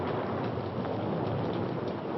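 Steady, dense rain pours in a 1939 film scene, a broad continuous hiss with low rumbling thunder beneath it, loud and unbroken throughout with no voices.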